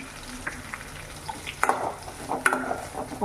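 Onions sizzle in a pan with a steady crackle, punctuated by a few sharp clinks and scrapes of stirring.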